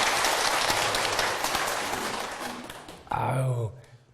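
An audience at a lecture applauds a retiree after 33 years of military service, with loud, dense clapping that tapers off before a short spoken phrase near the end.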